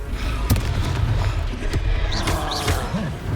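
Confringo fire spell blasts in the Hogwarts Legacy video game: repeated booming, crackling impacts amid dense game battle noise with whooshing effects, loud and continuous, while a player speaks spell names over it.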